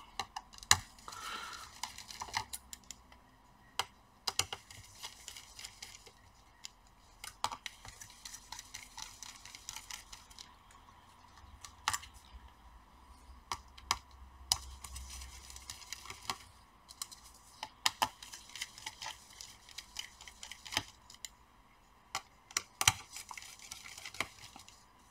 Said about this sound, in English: Now let's remove the screws.